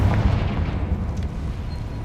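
The Confringo fire spell explodes in the video game Hogwarts Legacy, a single heavy low boom that rumbles and fades over about two seconds.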